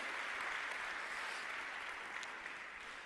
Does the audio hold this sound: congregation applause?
yes